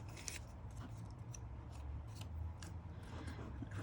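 Scissors snip through paper to cut page tabs for a craft journal: a series of quick, close, crisp cuts at an irregular pace over a low background hum, with no talking.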